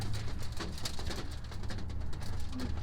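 Roller pigeons coo in a loft. Soft, repeated low cooing runs continuously under a rustling, pattering background of birds moving about, and the sound is moderately close.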